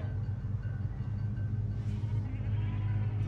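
A goat bleating in the Medal of Honor video game, a faint wavering call sitting over a steady low rumble of engine or ambient game noise, heard alone without talk.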